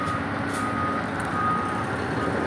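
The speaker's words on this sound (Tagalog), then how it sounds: "Mamaniobra lang yung ating trailer truck, no?" A trailer truck maneuvers on a gravel loading site, its reversing beeps repeating over a steady engine rumble at moderate distance.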